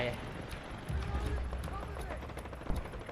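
Gunfire in the Delta Force video game crackles as rapid bursts and distant shots, faint under a busy game mix and someone talking.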